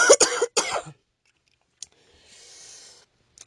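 A few sharp coughs up close at the start, then quiet with a faint click and a soft hiss.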